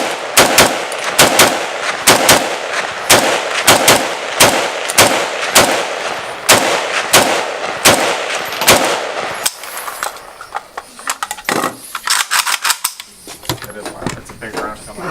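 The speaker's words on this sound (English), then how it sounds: "So let's try a bit of a rapid fire." Rapid shots from an entry-level 7.62 rifle fired outdoors, a quick string of loud, sharp cracks at a steady pace for about nine seconds, followed by quieter clatter and handling noise.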